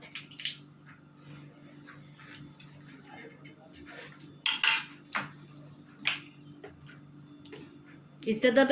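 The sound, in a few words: stirring fesikh with oil in a pan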